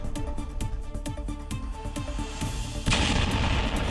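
Rapid, rhythmic bangs like heavy gunfire pound steadily, then a louder explosive blast bursts out and rumbles through the final second as a drone is hit by a missile in the air.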